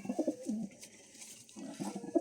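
Lakhori pigeons cooing close by, a series of low, soft rolling coos that pause briefly midway and then resume in a steady rhythm.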